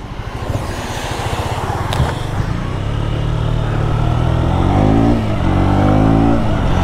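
A KTM Duke 125 motorcycle rides through heavy afternoon rain, its engine droning loud and close and rising in pitch as it accelerates, with a broad wash of wind and rain noise around it.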